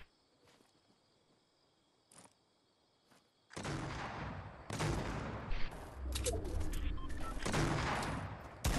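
Rapid bursts of gunfire from several directions in a Fortnite Battle Royale squad match, starting after a quiet stretch with faint chirping and continuing loud and dense, with overlapping shots and impacts throughout.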